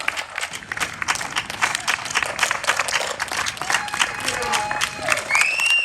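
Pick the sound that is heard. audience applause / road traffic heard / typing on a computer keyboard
audience applause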